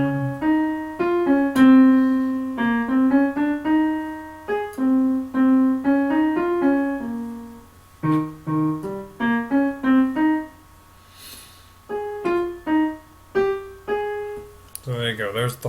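The horn part of a dominant seventh chord exercise comes through as a loud, close melodic line of sustained pitched notes with short gaps. The notes appear to be voiced by a singer rather than played on an instrument.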